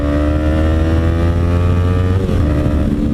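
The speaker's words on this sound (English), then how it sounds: "Matt's got the race tuned ECU now with the M4 exhaust." A Yamaha R3 motorcycle fitted with a race-tuned ECU and an M4 exhaust idles or runs steadily up close, its loud, smooth harmonic engine note holding even and dipping briefly before settling again.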